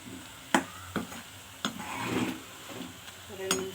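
Banana and sweet potato chips frying in coconut oil give a soft sizzle with scattered clinks of a utensil against the pan, close and fairly quiet.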